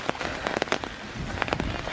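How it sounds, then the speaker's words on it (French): Scattered raindrops patter and tap irregularly on a nearby surface in Thuin, Belgium, soft and close, with no voices. "Et il pleut."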